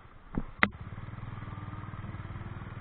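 Honda H'ness 350 top-end variant motorcycle engine running with a steady low, even pulse while riding, preceded by a couple of brief clicks or knocks near the start; no talking.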